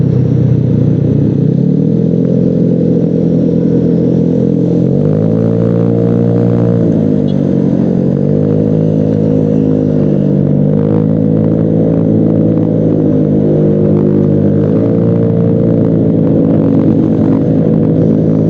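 Upgraded Vespa S125 scooter with an aftermarket exhaust, its engine humming and revving up and down repeatedly while riding along a road, loud and close throughout with no talking.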